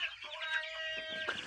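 Sixteen-day-old broiler chickens of CP stock cluck and chirp softly in a poultry farm shed in winter, a faint, busy chorus of overlapping calls with no talk.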